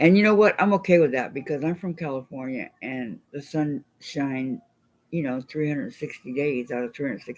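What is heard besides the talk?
None of the usual background noises is heard.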